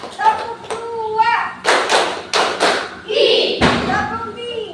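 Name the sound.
class doing a rhythmic clapping game, clap two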